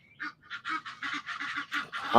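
A goose honks in a rapid series of about a dozen nasal calls, close and fairly loud with short gaps between them, with no talking over it.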